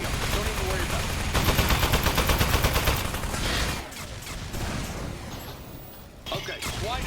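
Rapid automatic gunfire in the video game Aperture Desk Job, a dense rattling burst lasting a few seconds, then scattered shots and clatter as pieces break off, with a voice talking underneath.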